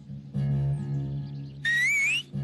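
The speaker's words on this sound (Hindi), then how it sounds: "कितनी सीटियां बजा रहा है" A whistle is blown in long sustained bursts, with a shrill, wavering high blast near the end and a steady lower tone underneath.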